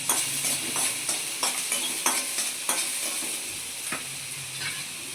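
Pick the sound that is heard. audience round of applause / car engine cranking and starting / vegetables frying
vegetables frying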